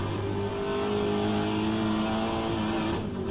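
A Pontiac Trans-Am race car in rFactor 2 holds a loud, steady engine drone close up, and its pitch drops briefly near the end as it shifts gear.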